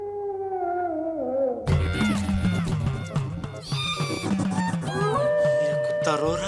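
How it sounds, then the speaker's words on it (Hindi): A dog howls in a long, falling, wavering wail, then voices, music and other sounds break in and cover the rest. "ये कुत्ता रो रहा है"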